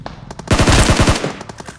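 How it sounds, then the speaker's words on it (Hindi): A loud, close burst of rapid automatic gunfire in the video game BGMI, with the shots rattling in quick succession for about half a second before fading into quieter trailing shots. "पहले बॉट फायर करके बुला रहा है"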